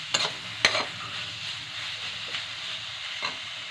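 Fennel seeds are stirred in a frying pan while cooking a wheat-flour snack, a soft scraping stir over a low continuous sizzle, with a couple of light taps against the pan, close but quiet.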